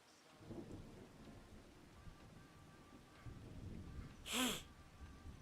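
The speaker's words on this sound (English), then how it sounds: "And it's raining." Steady rain falls in Farming Simulator 25 with a soft wash throughout and a brief louder crack or rumble near the end, heard alone without speech.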